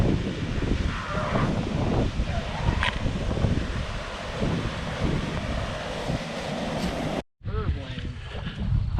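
Strong wind gusts buffet the microphone in a remote Utah canyon, a loud, continuous roar that briefly cuts out near the end, with faint voices beneath it.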